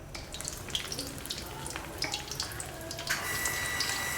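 Water poured into a pot of pork rib soup on the stove, a soft steady splashing and trickling with faint sizzle, quiet and close, growing fuller near the end.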